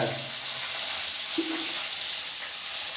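Onions sizzling steadily in a pan while sautéed with salt, a continuous close hiss of frying with a brief stir partway through, for sambar cooking at home.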